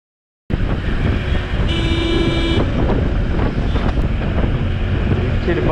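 Strong hot wind roars and buffets the microphone while riding on a road, a loud continuous rush with a brief tonal whine partway through.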